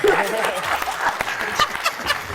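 Studio audience applause on a Georgian TV comedy game show breaks out and continues steadily for a couple of seconds beneath a host's voice and scattered laughter.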